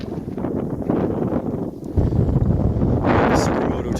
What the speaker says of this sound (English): It is windy out here right now, sorry about that.